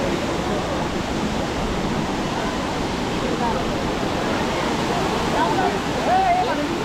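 Elephant Falls in Shillong, Meghalaya, gives a steady, dense roar of falling water that stays even and unbroken throughout, loud and close.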